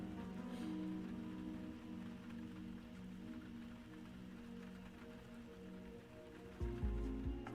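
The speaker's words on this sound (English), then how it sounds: "The sound of the rain on the window faded into nothingness." Steady rain pattering on a window, a dense even hiss over a low background hum, close and continuous, with a deeper rumbling shift near the end; no voices.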